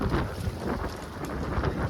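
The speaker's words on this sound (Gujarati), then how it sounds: "પવન છે ને બહુ છે આજ" Steady broadband wind roar outdoors during open-air cooking buffets the microphone with low rumbling gusts throughout, no voices present.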